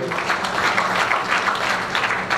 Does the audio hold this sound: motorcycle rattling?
no